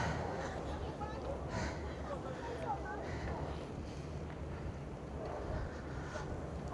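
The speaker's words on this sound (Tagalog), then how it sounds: "lakas ng hangin." Steady strong wind rushes across the microphone outdoors near water, a constant roar with faint background sounds.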